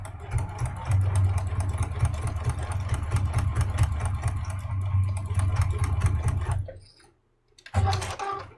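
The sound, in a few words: sewing machine stitching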